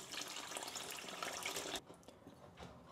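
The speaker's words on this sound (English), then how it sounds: "Give them a little rinse in some cold water." Cold tap water rinses raw king prawns, a close hissing stream splashing for under two seconds before cutting off, leaving faint drips and quiet handling.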